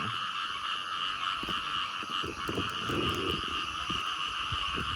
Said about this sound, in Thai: เสียงอึ่งอ่างร้อง